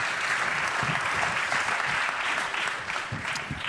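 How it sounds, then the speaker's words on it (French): An audience at a panel discussion applauds three guests with a dense, steady burst of clapping that holds from start to finish, fairly loud and close. "Vous pouvez les applaudir tous les 3."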